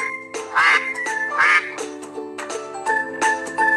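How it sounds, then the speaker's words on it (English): A duck quacking: several loud, close quacks in an uneven rhythm, each short and nasal, with a few brief gaps and no other sounds. "Duck."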